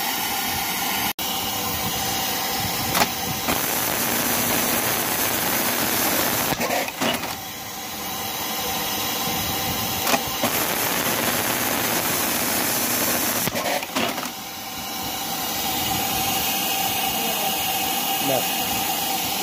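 Juki MEB-3200J industrial sewing machine running with a loud, steady mechanical whir and hum that continues throughout, with a few brief dips and clicks.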